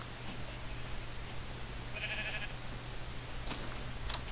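A single sheep bleat in the video game Minecraft, a short wavering tone lasting about half a second over a steady low hum, faint and alone, followed by a couple of brief clicks.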